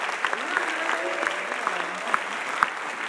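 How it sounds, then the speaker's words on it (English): A crowd applauds steadily at a music awards ceremony in Madison, a dense even wash of clapping lasting throughout, with a few louder claps and faint voices underneath. "everybody should really give themselves a round of applause"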